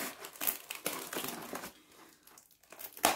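A carefully wrapped parcel of craft materials being opened, its packaging crinkling and rustling in loud, close bursts that pause briefly and then resume.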